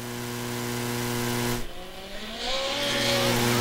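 Open-wheel midget race cars at Lucas Oil Speedway, engines whining at high pitch as they accelerate out of the turn, one strong tone fading briefly then rising again with a rising pitch sweep, loud and continuous.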